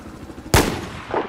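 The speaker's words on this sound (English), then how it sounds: "Running shot from 440 meters away. Headshot." A single sniper-rifle running shot in a video game, the heavy crack of one loud near report followed by a short decaying tail and a faint later echo.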